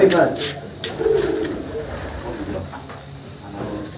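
Pigeons kept by boarding-school students coo close by in soft, repeated throaty calls, with people talking over them.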